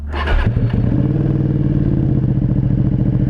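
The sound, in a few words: Ducati Panigale V2 950cc motorcycle engine revving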